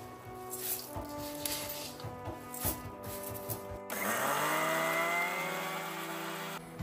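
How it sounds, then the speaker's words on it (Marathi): A mixer grinder grinds poha, whirring with a tonal motor whine, first in short stop-start bursts, then running continuously at higher speed. "निवडून चांगले मिक्सरवर चांगलं बारीक करून घ्यायचं आहे."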